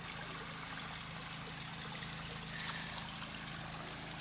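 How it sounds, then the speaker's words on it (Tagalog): Irrigation water runs in a steady, even, continuous rush through a field of string bean plants, close and unbroken with no voices. "nagpapatubig na ho tayo sa sitaw"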